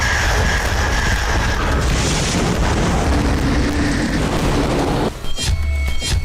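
A Russian navy exercise in the Pacific Ocean produces a loud, continuous rumbling roar that cuts off abruptly near the end. A thinner, quieter mechanical noise follows.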